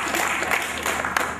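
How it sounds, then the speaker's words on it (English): An audience applauds a woman at a Nigerian cybersecurity conference, a brief, dense wash of clapping that fills the room steadily without a clear start or finish. "Please clap for this lady."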